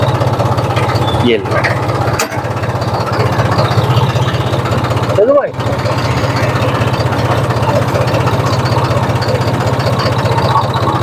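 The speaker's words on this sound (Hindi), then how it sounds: "ये देखो जी, अब बिल्कुल फूड में जो है ट्रैक्टर आ गया।" A tractor engine runs steadily in a field during sugarcane sowing, pulling a furrow-cutting sowing machine, a loud continuous low drone with a few brief dips, while people talk over it.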